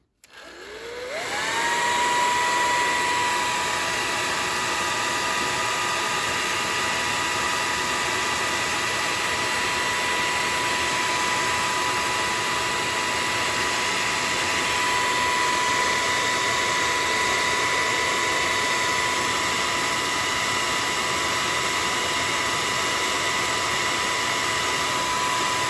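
Hair dryer blowing on painted wood decor craft, switching on and spinning up to a steady loud whirring hiss that continues unbroken, close to the microphone.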